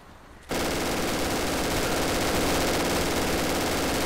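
MG42 machine gun fire in the Darkest Hour video game: after a brief quiet start, an abrupt, loud, continuous burst of extremely rapid automatic fire that roars unbroken to the end.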